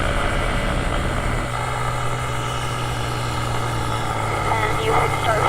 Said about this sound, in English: taxiing faster than usual, and then bringing up your nose